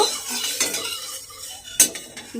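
Dried lentil dumplings (biulir daal bori) dropped into hot mustard oil in a pan, heard as a few close metallic clinks and scrapes of a utensil, with one sharper clatter near the end and only a faint sizzle underneath.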